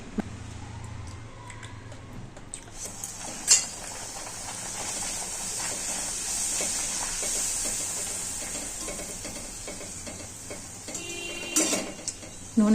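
A small puri sizzles in well-heated oil, a steady hiss of frying that fills the whole stretch, with a few light clinks of a utensil against the pan near the start and end.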